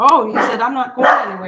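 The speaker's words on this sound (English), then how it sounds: "They're just small dogs. One's a cockapoo and one's a Shih Tzu." Two small dogs, a cockapoo and a Shih Tzu, bark and yip close by in quick bursts while someone talks over them.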